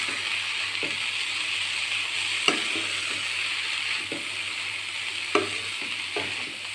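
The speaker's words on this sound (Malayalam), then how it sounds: "നന്നായിട്ട് മിക്സ് ചെയ്ത് കൊടുക്കുക. എല്ലാം കൂടി ഒന്ന് മിക്സ് ആവട്ടെ." Egg, onion and drumstick leaves sizzle steadily in a pan while a spoon stirs and scrapes through them, with a few sharper knocks against the pan's side and no talking.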